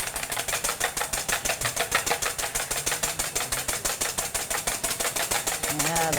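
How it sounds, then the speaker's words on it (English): A hand whisk beats a milk tart mixture in a bowl, fast rhythmic clicking strokes repeating evenly and loudly at about four per second, close up and without talk. "So we're just going to give this a nice little whisk."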